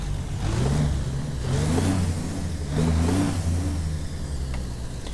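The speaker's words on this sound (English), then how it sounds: "Give you a little rev up here." A truck engine in American Truck Simulator, hauling cardboard on an owner-operator run, revs up three times in steady swells, each climbing then settling back toward idle, close and clear with no talking.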